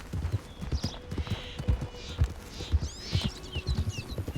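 A horse trots along in the game Red Dead Redemption 2 with rhythmic hoof clip-clops at a steady, fairly quiet pace, while faint birdsong chirps in the background.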